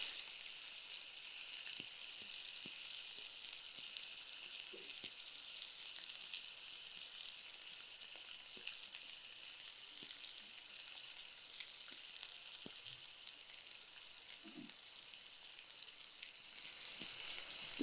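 A potato dosa roll frying in oil in a kadai, a steady, continuous hiss of bubbling oil with a few faint ticks and pops, close and unbroken throughout.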